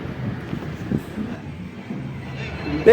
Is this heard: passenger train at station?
yes